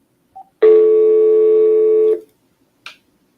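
Phone call being dialed: a short keypad beep, then a steady two-second electronic tone and a brief chirp at the end, loud and close with no voices.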